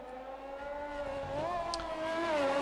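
McLaren race car engine in a racing video game, a steady high whine rising and falling in pitch as it revs, fairly close and continuous without talk.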